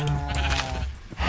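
Minecraft sheep bleating, a short wavering baa close up and fairly loud over faint game ambience, lasting about a second.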